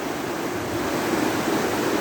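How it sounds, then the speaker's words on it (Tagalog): Strong floodwater rushes in a continuous loud roaring wash, dense and unbroken, heard close with no voices over it. "lakas-lakas ng baha"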